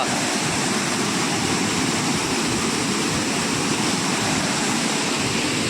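A steady, dense rush of falling water from Ozar waterfall in Bhiravande, Kankavli, in the Konkan, loud and close with no voices over the constant roar.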